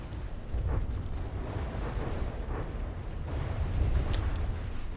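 Explosive shells firing in the naval combat game From the Depths, a continuous low rumbling roar with several dull distant booms rising out of it, no talking.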